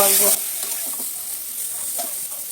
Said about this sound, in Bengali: একটু হলুদ লবণ দিয়ে ভেজে হলুদ লবণ দিয়ে দিয়েছি